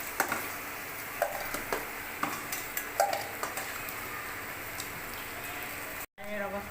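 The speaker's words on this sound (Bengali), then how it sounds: "কচুটা আমার ভাজা হয়ে গেছে, এবার তুলে নেব" Pieces of taro (kochu) fry in a pan with a low, continuous sizzle, broken by sharp clinks and scrapes of stirring against the pan at irregular intervals.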